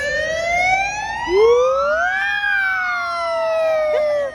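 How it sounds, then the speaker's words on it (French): Fire engine siren passing along a street in Budapest, a loud wailing tone rising and falling in pitch, with a Doppler-like glide as it goes by, heard alone without talk. "Moi j'aime bien le gyrophare des pompiers. Ça m'interrompt en fait."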